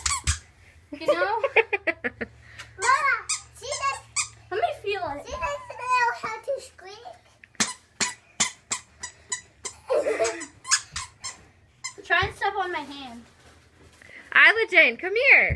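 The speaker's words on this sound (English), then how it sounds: "They say that the reason why the squeaks are in the heels is because it helps them walk correctly." Squeaky children's shoes with squeakers in the heels chirp in a rapid irregular run of sharp squeaks as a child walks, mixed with a child's babbling and speech.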